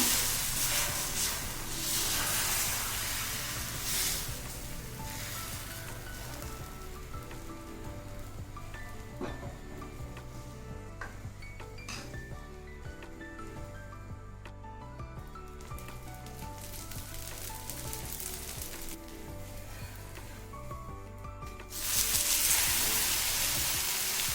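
Thick oats and coconut dosa batter sizzles steadily on a hot pan, a continuous crackling hiss with some low background hum, growing louder again near the end.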